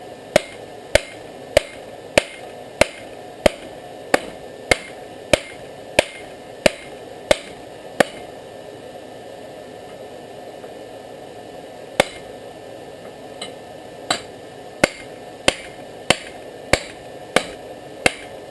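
A rebar knife is forged in a backyard, its metal struck by a hammer on an anvil in evenly spaced sharp ringing blows, a fast run of about a dozen, a pause, then another steady run, close and loud with no talking.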